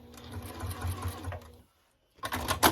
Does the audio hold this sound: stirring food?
no